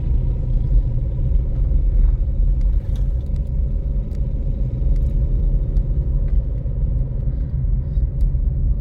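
Steady engine rumble and road noise from a car climbing a mountain road, continuous and fairly loud, with no talk over it.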